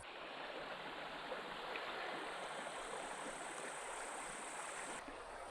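A deep river with a strong current flows through the taiga, a steady, even rushing of water heard faintly and continuously with no voices.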